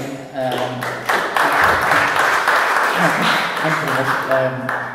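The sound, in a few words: audience clapping at a live gig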